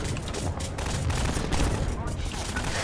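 Rapid bursts of gunfire from the video game Half-Life 2 keep up a loud, dense fusillade, with a voice speaking over the shooting.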